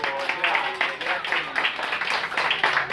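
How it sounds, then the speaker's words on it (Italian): An audience claps together at a photo contest awards ceremony, a lively, close burst of applause with people talking over it. "facciamo un applauso"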